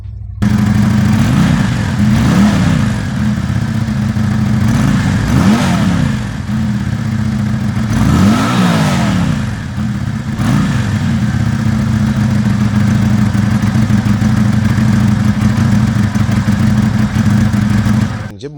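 A 2022 Lifan V16S motorcycle engine runs close up, idling steadily with several rising and falling revs in the first half before settling into an even, loud drone.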